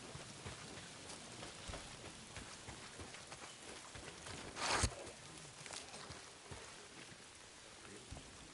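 Steady rain patters on surfaces in the post-apocalyptic video game Days Gone, a dense continuous hiss with scattered droplet taps and one brief louder burst near the middle.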